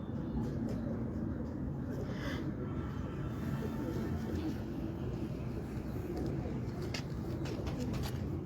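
Dubai teddy pigeons, kept as a breeding flock of pairs, cooing steadily against a dense, constant background murmur, close and fairly loud with no pauses.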